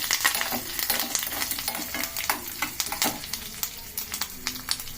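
Dal and spices sputter in oil for a South Indian tempering while being stirred, a close sizzle broken by frequent sharp crackles and spoon scrapes in an uneven rhythm, with no talking.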